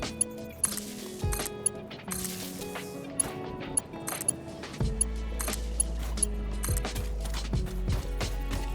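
Factory machines running in the game Satisfactory, a steady mechanical clatter of gears and ratcheting parts with repeated sharp clicks, which settles into a deeper continuous hum partway through.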